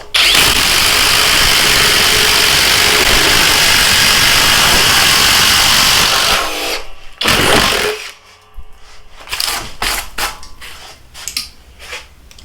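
A Flex 24V impact driver drives a 1/2 by 4 inch lag bolt with a loud, continuous hammering rattle for about six seconds, then stops, leaving a few short bursts and knocks.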